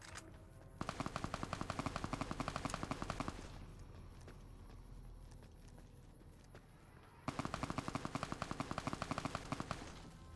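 Rapid 12mm SMG fire in Fallout: New Vegas, two long, loud automatic bursts of tightly spaced shots separated by a few seconds of quieter combat ambience.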